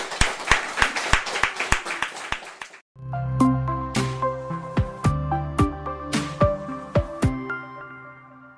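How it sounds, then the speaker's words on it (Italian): A school class in Grosseto breaks into brisk, rhythmic applause for about three seconds, close and loud, before it stops and a melodic music passage takes over for the rest. "io direi che possiamo fare un bel applauso anche a loro"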